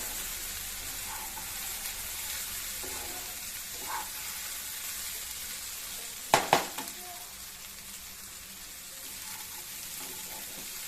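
Raw banana fry sizzles in a pan, a soft, steady crackle running throughout, broken once by a couple of sharp metallic clinks near the middle.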